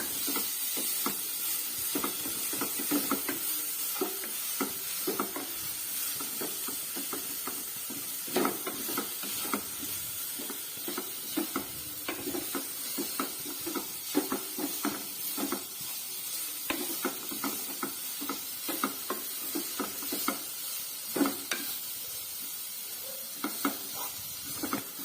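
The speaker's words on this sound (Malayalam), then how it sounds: "അപ്പൊ നമുക്കിത് പച്ചമണം മാറുന്നവരെ നമുക്കിത് ഒന്ന് സോർട്ട് ചെയ്തെടുക്കാം" Beans and vegetables sautéing in a pan for a veg cutlet, a continuous close sizzle with repeated scraping and stirring clatters throughout, no voices.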